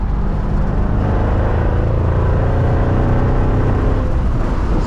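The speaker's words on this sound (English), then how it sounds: "This car makes a lovely exhaust note" A 2005 Mercedes-Benz CL55 AMG engine rumbles steadily from inside the cabin, a low continuous throaty exhaust drone with road noise, no talking.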